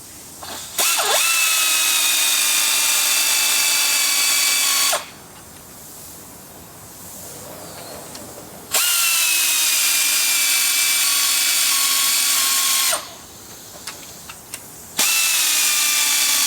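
A power drill drives a spring compressor tool down on an ATV front shock spring, from a 2004-2009 Can-Am Outlander, giving two long, loud, steady whirring runs separated by quieter pauses.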